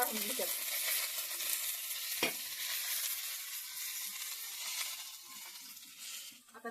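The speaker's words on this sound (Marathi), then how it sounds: "मिरच्या पण छान भाजल्या का आता" Green chillies and peanuts roast in a pan with a continuous crackling sizzle and occasional stirring scrapes, including one sharp clack, fairly quiet and without speech.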